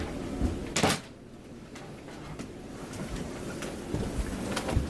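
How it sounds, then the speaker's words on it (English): A fusuma sliding door in an old Japanese house gives a short rumbling slide and bump near the start, then fainter shuffling and creaking from indoors, with no speech. "When I open this Fusuma sliding door, there's another hallway."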